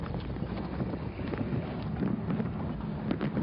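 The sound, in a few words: cool wind blowing outdoors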